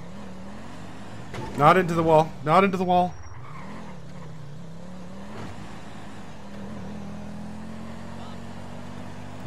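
A car engine in GTA Online hums steadily with a low, even drone as the vehicle is driven, while someone briefly shouts over it.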